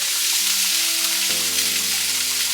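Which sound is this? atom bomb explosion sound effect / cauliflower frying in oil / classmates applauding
cauliflower frying in oil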